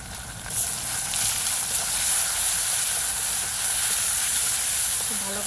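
A ground cumin and coriander paste hits hot oil in a pan for a fish curry, giving a loud, steamy hiss and sizzle that holds steady for several seconds.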